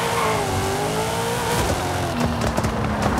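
A Toyota GR86 drag build in Forza Horizon 5 drones steadily at high revs, its engine pitch climbing and then shifting, loud and close with no talking.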